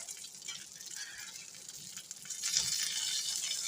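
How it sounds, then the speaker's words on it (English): Brussels sprouts being tossed around in a hot air fryer basket give off a soft, hissy rustle and light sizzling close up, steady and fairly quiet with no talking. "These have been in the air fryer for 10 minutes, so I'm just going to mix them around a little bit and put them back in for another 10."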